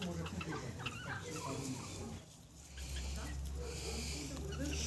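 Bantam chickens cluck and a rooster calls amid steady farmyard fowl noise, with a low droning hum underneath and brief quieter moments midway.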